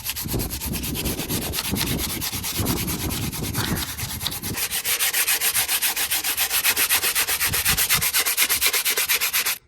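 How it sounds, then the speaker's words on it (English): Sandpaper scuffing the wheel arches of a Vauxhall Nova, a loud, close, continuous rasping that settles into a fast, even back-and-forth rhythm for nearly ten seconds before stopping abruptly, with no talking. "I'm going to give the arches a wee scuff over it with a bit of sandpaper"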